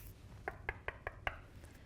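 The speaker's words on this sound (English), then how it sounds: "Before entering the patient's room, I'm going to knock." Five evenly spaced knocks on a patient's room door in a care setting, sharp and fairly close, over quiet room hiss with no talk.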